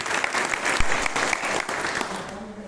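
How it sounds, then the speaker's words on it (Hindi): Loud clapping from a seated audience at a talk, a dense burst of hands that peaks early and then tapers slightly, with some voices mixed in. "एक बार अपने में जोरदार ताली जरूर बजा दीजिए"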